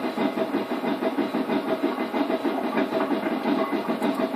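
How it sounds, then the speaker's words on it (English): A pair of Fowler 4F steam locomotives double-heading in Train Simulator, giving a steady, dense rhythmic chuffing and rumble that runs continuously without a break, heard close and fairly loud with no voices. "So the one in the front here is Donald, and the engine behind him is the engine behind him is Douglas"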